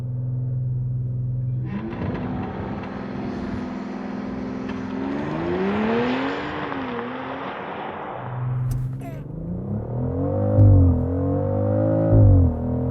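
A 2025 BMW X3 M50 makes a launch-control start. Its engine idles, then surges with a rising roar and climbs through gear shifts, with a brief click partway through. The engine stays moderately loud and steady, with no voices.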